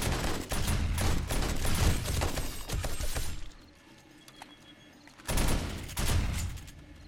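Shotgun turrets blasting away during a zombie horde night in 7 Days to Die, rapid overlapping loud gunshots in dense volleys, a brief quieter lull, then another heavy barrage.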